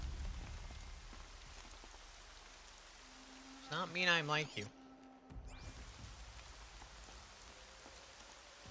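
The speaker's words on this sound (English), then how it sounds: "More rain. My boots will get damp." Steady rain patters across a surface throughout a scene in Horizon Zero Dawn, a constant soft hiss while a voice briefly speaks over it and a short tonal game sound cuts in.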